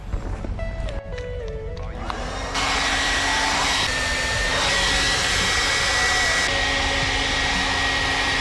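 A hair dryer blowing to warm the fuel filters on a truck, a loud steady whirring rush that starts after a couple of seconds and runs continuously.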